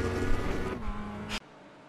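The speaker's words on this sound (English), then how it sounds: "The sound of that collision?" A race car collision in the iRacing sim with a BMW M4: a loud engine roar with a rising tone ends in a sharp broadband crash burst, then drops to quiet.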